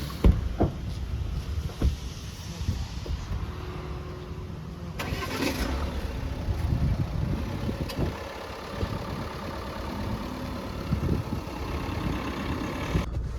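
A Tata Safari SUV engine turns over and runs, rumbling low and close before the car pulls away, with road and engine noise holding steady and no talk over it.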